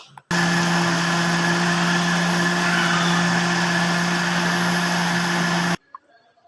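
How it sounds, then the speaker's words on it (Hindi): A blender whirs peaches and water into juice in a loud, steady, close motor run of about five seconds. It starts and cuts off abruptly, with a faint clatter afterward. "इसमें के अंदर मैं वाटर शामिल करके तो इसको मैं ब्लेंड कर लेती हूँ"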